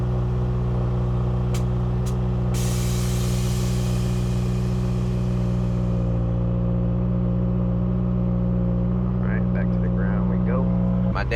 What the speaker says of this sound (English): Now I'm gonna start the car all the way up